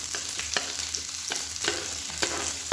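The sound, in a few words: onions frying in hot oil in a kadai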